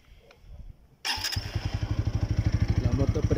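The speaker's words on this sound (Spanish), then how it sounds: "La moto prende, es un fosforito, prende con un solo startazo." A TVS Apache 200 RTR 2.0 4V (2020-2021) motorcycle engine fires up abruptly after a quiet moment, then settles into a loud, close, steady idle with a rapid, even throbbing beat.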